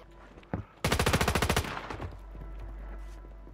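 Video game gunfire: a short burst of about a dozen rapid, loud automatic shots, preceded by a single shot and followed by a fading echo.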